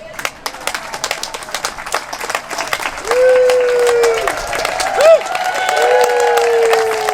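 A crowd at a May Day rally in Woodstock, New York claps and cheers in a scattered burst, then the clapping thins as sustained singing or tonal voices rise over it.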